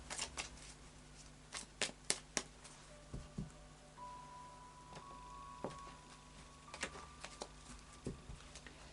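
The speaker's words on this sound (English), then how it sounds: "I'll just do a final shuffle of the Tarot of Dreams for you" A Tarot of Dreams deck being shuffled by hand, with a run of crisp riffling card flicks and taps at close range against a faint steady background hum.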